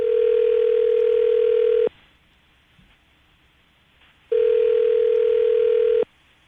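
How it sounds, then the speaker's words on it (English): Telephone dial tone on a radio morning show, a steady loud tone heard in two long bursts of about two seconds each, separated by a quiet gap. "we're about to dial her phone number right now"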